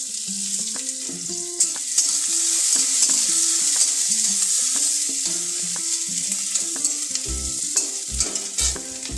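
Onions fry in hot oil left over from frying fritters, giving a loud, bright hiss throughout. Background music plays over it, and utensil knocks come through near the end.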